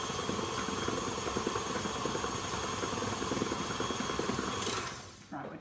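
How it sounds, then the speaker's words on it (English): A kitchen stand mixer whirs steadily while beating lemon and elderflower buttercream, a constant close motor drone that cuts out near the end. "Just let me turn this mixer off, let me just get this going."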